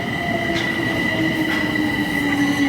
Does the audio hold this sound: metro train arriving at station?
yes